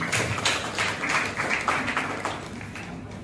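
An audience at a devotional talk about Shirdi Sai Baba claps together in a dense, steady patter that stays fairly faint and fades slightly toward the end.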